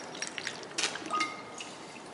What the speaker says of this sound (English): take the empty bottle of Coca-Cola and rinse it with distilled water.